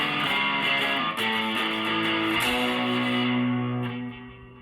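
Distorted electric guitar playing a riff, loud sustained power chords ringing out together before fading at the end.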